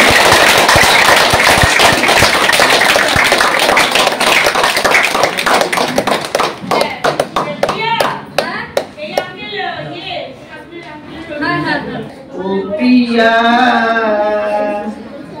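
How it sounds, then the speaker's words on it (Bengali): Loud, dense clapping from a crowd at a birthday celebration in Habra, thinning into scattered claps before a person starts singing. "জোরে একটা হাততালি, অনেক জোরে"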